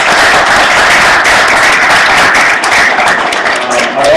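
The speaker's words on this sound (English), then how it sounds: "Please give them a round of applause if you will." An audience at an MBA panel session gives the panelists a round of applause, a loud, continuous patter of clapping from many hands that holds steady and begins to thin at the very end.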